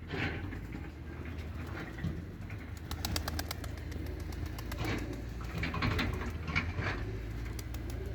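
Soft pigeon coos repeat over a low background hum, with occasional faint wing flutters and light patter nearby.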